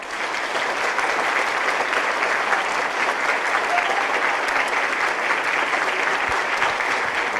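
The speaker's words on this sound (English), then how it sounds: "everyone start clapping, go" A large audience at an opening ceremony claps loosely and out of step, a dense, steady wash of many hands that never locks into a shared beat, close and continuous throughout.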